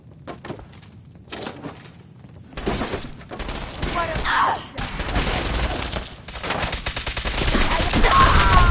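Fallout 4 gunfire comes in sharp scattered shots at first, then builds into loud, dense rapid bursts that continue to the end.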